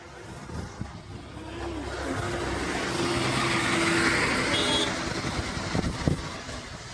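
Road traffic rolls past on a trip to Tirupati, vehicle engines swelling to a broad passing roar midway and fading again, with scattered horn-like tones and clatter.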